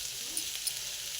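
Snake gourd and lentils sizzle and fry in a pan while being stirred, a soft steady crackle with faint scraping, alone and fairly quiet.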